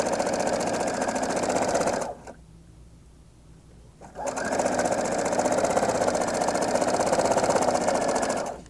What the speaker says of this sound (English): now I'm sewing the side back to the center back